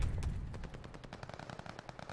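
A fast machine-gun burst rattles in a Call of Duty hard point fight, opening with a heavy boom and then running as a steady run of close, loud shots without pause.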